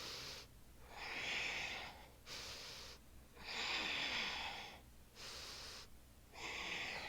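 Heavy, rhythmic breathing during an ab workout, slow alternating inhales and exhales in long airy waves, close and fairly quiet, with no talking.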